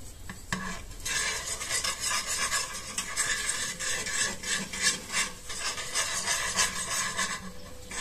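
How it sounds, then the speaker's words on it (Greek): Sugar scrapes and rasps as a utensil stirs it into melting caramel in a frying pan, a steady gritty rubbing texture with faint sizzling underneath, continuous and close, no voices. "Και ανακατεύουμε μέχρι να λιώσει η καραμέλα μας"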